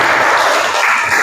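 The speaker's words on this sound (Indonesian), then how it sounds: "kita beri aplaus dulu untuk kelompok 1 dan 3" Classroom applause for student groups 1 and 3, a dense burst of many hands clapping, loud and close, continuous for the full short span with no talk.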